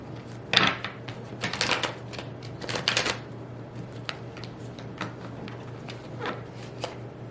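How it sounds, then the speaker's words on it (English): Oracle and tarot cards being shuffled by hand, a few crisp riffling bursts near the start followed by sparse soft taps and card slides, close and fairly quiet against a low steady hum. "Let's shuffle one more time."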